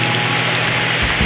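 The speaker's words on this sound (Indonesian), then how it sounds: "Diguyur hujan." Heavy rain pours down during a storm on an overland trek to Waerebo on Flores, a loud, dense, unbroken roar of downpour with no voices.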